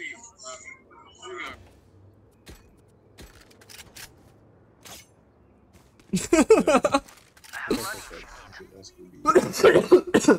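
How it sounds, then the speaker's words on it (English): Several harsh, close coughing fits burst out after a stretch of quiet, with throat-clearing sounds between them. "Bro, I'm coughing so hard,"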